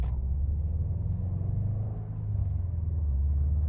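A 2021 Subaru STI engine pulling hard after a gear change, a deep steady interior rumble that dips briefly at the shift and then builds again, heard from inside the car with no talking.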